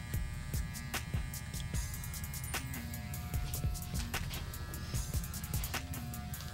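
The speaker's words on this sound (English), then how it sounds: "we flip the clipper upside down. We just kind of go in and just shape the beard" Electric hair clipper shaping a beard during an undercut with beard cut, giving a steady close buzzing hum with brief scraping strokes repeating throughout.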